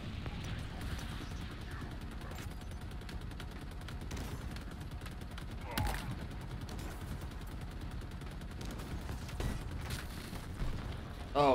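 Shock rifle fire in Halo Infinite runs as a steady stream of dense gunfire and crackling bursts, loud and continuous, with a few sharper blasts standing out and no talking.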